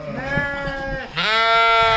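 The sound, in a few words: sheep bleating in a paddock sheep pen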